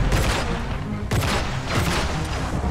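Sniper rifle fire in the shooter game N.O.V.A Legacy cracks loudly in dense, rapid bursts, with two heavy volleys one after the other and no voices.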